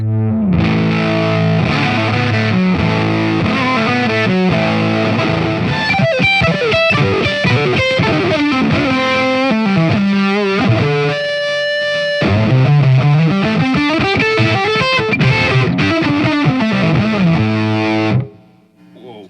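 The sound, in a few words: distorted electric guitar through amplifier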